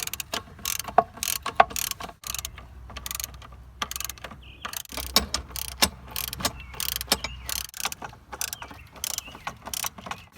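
A ratchet on a long 17mm extension works the bolts of a watercraft impeller housing, giving bursts of rapid, close clicking separated by short pauses, with occasional metallic knocks and no speech.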